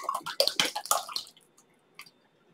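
Homemade salad dressing poured into a glass jar, a quick run of wet glugging and splashing that stops abruptly, followed by a single faint drip or clink in near silence.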